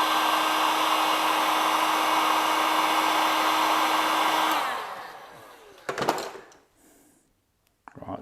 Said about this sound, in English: So just using this heat gun on setting 1.